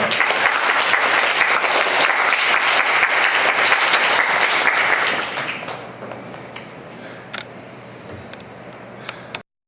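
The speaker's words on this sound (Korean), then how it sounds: "큰 박수로 모시겠습니다." A church congregation gives a pastor strong applause at a worship service; the dense clapping holds steady for about five seconds, then thins to scattered claps and fades out.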